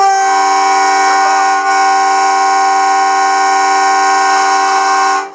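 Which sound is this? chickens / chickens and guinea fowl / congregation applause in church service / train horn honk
train horn honk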